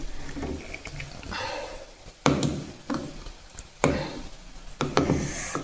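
Wooden murukku press squeezing stiff rice-flour dough, a series of close creaking, rasping wood strains coming in short bursts with pauses, no speech.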